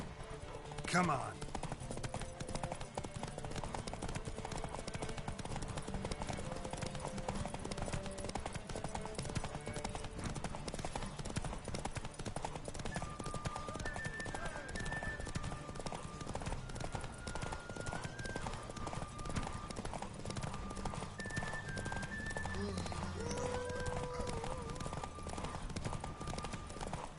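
A steady, rapid drumming of hooves carries on throughout as a horse gallops in a derby in The Witcher 3, mixed with game music and occasional voices, with no pauses in the gait.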